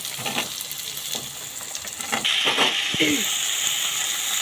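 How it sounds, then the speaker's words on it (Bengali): Pumpkin, potato and jackfruit seeds fry in a pan for a Bengali curry, giving a steady close sizzle and hiss with a few soft stirring clatters that grow louder toward the end. "কুমড়ো আলু আর কাঁঠালের দানা আমি ভালো করে ভেজে নিয়েছি"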